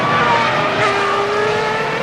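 Formula 1 cars from the 2002 season scream past on track, a steady high engine whine that rises and falls slightly as the cars pass, loud and continuous for about two seconds.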